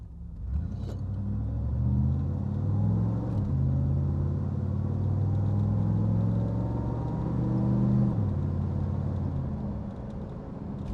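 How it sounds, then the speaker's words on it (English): A 1989 Pontiac Trans Am GTA accelerates gently from a stop, its engine rumbling up through several gear shifts with audible changes in pitch, heard from inside the car. "So I'm stopping and I'm going to hit the gas."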